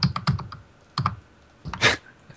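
Keyboard typing picked up over a voice chat microphone during a multiplayer game session: a few short bursts of close clicky keystrokes separated by pauses, ending with a louder clatter.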